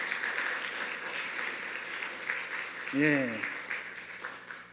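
A church congregation gives a welcoming round of applause for visitors, steady clapping running under a pastor's voice, who briefly speaks partway through.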